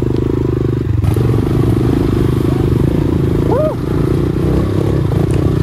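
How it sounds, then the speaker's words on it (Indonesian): A motorcycle engine drones steadily and loudly close by while riding off-road at Bromo, with wind rumble and a few faint clatters over it. "off road pakai motor."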